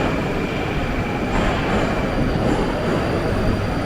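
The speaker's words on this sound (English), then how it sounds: "Definitely, you have to use the metro while in Moscow." A Moscow metro train rumbles along the track. The loud, steady roar of wheels and car noise carries thin squeals above it and runs continuously throughout, with no voices.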